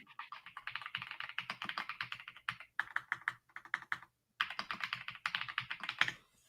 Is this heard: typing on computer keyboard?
yes